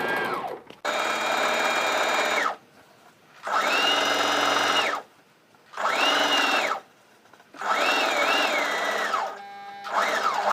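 Sewing machine stitching a fabric tote bag, running in five loud bursts of rapid whirring, each a second or two long, separated by short pauses, close and with no talk.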